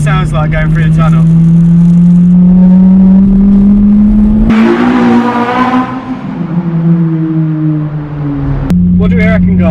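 A Honda Civic EP3 with an M2 backbox exhaust drives through a tunnel, its engine droning loudly and rising with revs, with a sharp gear change and a raspier burst echoing off the walls, close and continuous.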